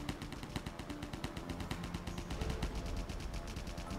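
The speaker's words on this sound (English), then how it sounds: "What is shooting me?" Rapid automatic gunfire rattles in a steady, continuous stream in the video game Airheart, fairly faint and mixed with constant game noise.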